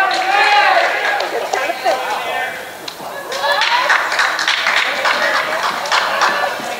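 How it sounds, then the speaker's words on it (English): A crowd in a gym at a high school senior night basketball game erupts in a loud collective outcry after a jump ball call, with a commentator talking over the noise. "You heard a collective what from the crowd there"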